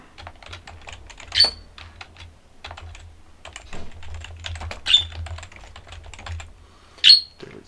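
Keys tapped on a computer keyboard in short, light bursts of typing, close and quiet, separated by a few brief pauses and sharper clicks.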